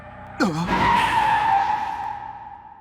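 An animated car in a mountain-road racing scene skids with a sharp tire squeal that swoops down in pitch, then settles into a steady, fading screech lasting about two seconds, heard alone.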